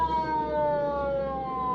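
A police car siren wails close and loud in a steady, slowly falling tone over a low vehicle rumble.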